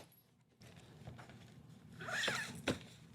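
Luggage zipper being pulled open on a travel bag holding badminton rackets, a faint quiet rustle building into a short bright zip near the end, close and alone.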